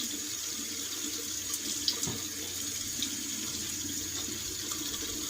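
A kitchen tap runs steadily as a shaving mug is rinsed, a continuous close splashing with small drips and clinks and no talking.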